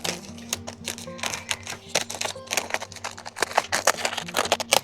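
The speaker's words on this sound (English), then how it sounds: "Shall I get my scissors? Cut it all off." Scissors snip through the stems and foliage of hanging basket plants in a series of sharp, irregular clicks and cuts, close up, with a faint steady hum behind.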